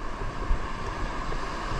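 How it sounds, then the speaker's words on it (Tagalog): Big ocean waves roar in a continuous, loud wash of surf, with strong wind buffeting the microphone throughout. "Yan na naman sobrang laki ng alon."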